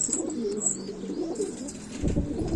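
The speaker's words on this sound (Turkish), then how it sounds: "Şu an burada 55 tane kadar kuş var." A flock of about 55 pigeons coos softly, with low murmuring coos and a brief fluttering rustle near the end.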